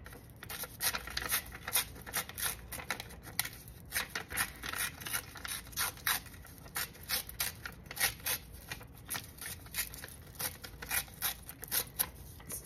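Scissors cutting by hand around the four edges of a paper petition, with a steady run of crisp snipping and scraping strokes, close and continuous with brief pauses between cuts.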